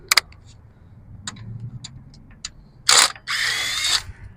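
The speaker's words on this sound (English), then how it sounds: "Now I should be able to put the old snap-on gun on." A Snap-on impact gun zips bolts off an alternator on a Mustang, with two loud bursts of whirring near the end after a few scattered clicks and taps of tool handling.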